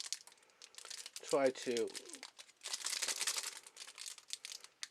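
A Bakugan Battle Planet Resurgence booster pack being shaken and opened, its foil crinkling in busy bursts close to the mic while a person speaks briefly partway through.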